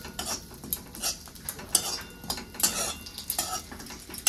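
Grated coconut roasting in a little oil in a pan, with a metal spoon scraping and stirring in quick irregular strokes over a faint sizzle, close and fairly quiet.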